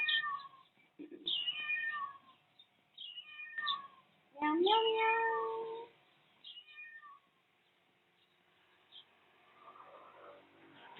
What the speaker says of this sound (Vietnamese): mèo dạ, mèo